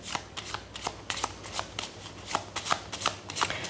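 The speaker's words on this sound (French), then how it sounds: "Je vais envie de prendre une petite carte du jeu 32." A 32-card deck is shuffled by hand in a card reading: rapid rhythmic riffling and slapping of cards, about a dozen crisp bursts in quick succession, close and fairly quiet, no talk.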